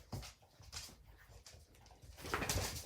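Puppies in a room during a yoga class, faint whimpers and yips scattered across a quiet background with some soft rustling, growing a little busier toward the end.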